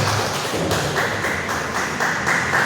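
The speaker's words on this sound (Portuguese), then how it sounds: "Agora eu te convido a dar a mais forte salva de palmas ao Senhor Jesus" A church congregation claps loudly in a sustained, dense roar of many hands that swells slightly near the end, with no voices over it.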